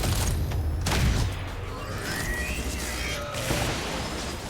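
Explosions in the video game XCOM 2 burst out, a loud boom at the start followed by rumbling crashes and scattered gunfire-like blasts that trail off.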